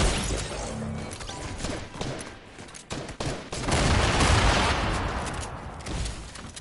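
Gunfire in the video game Fortnite comes as a dense, loud barrage of shots and impacts that continues almost without a break over a noisy game backdrop.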